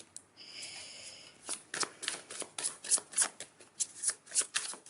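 A tarot deck is shuffled by hand: a brief rustle, then a fast run of crisp, rhythmic card flutters close by, with no speech.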